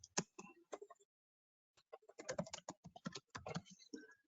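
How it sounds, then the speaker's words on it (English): Fingers typing on a computer keyboard nearby: a short burst of key clicks, a brief pause, then a longer run of quick, irregular keystrokes, fairly quiet with no talking. "let me just type that."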